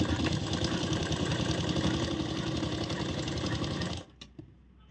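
A sewing machine stitching the bottom hem of a coat-collar blouse runs in a steady, fast whirring chatter for about four seconds, then stops abruptly, leaving a few faint clicks.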